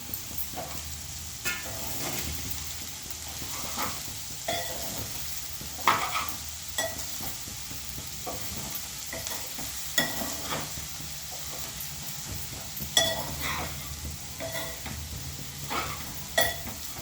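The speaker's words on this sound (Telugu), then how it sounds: "ఇప్పుడు మనం ఉల్లికాడలు వేసుకుందామండి" Spring onions stirred and frying in a pan for a moong dal curry, with a continuous sizzle broken by repeated spatula scrapes and light clinks against the pan.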